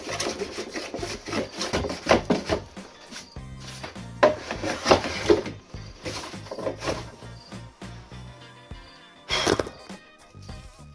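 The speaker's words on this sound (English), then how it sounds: "use the hand plane and just clean this up and give it a little bit of a shape" A hand plane scrapes across pine wood in a series of uneven, rasping strokes, some sharper and louder than others, close up with no talking.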